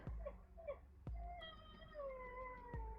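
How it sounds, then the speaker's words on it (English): A dog whines in the background of a room, with a few brief high whimpering cries and thin drawn-out tonal whines over a low hum, plus occasional soft thumps. "excuse the dog whining in the background"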